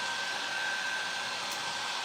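A hair dryer blowing on a freshly painted coat of chalk paint, a loud steady whooshing whir with a thin constant whine, running close and uninterrupted.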